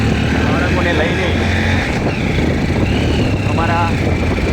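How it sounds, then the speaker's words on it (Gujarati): A motorbike climbing a hill road, its engine droning steadily and close with rising and falling pitch, and people talking over it throughout. "બાઇક લઈને મિત્રો અમે ઉપર ચડી રહ્યા છીએ"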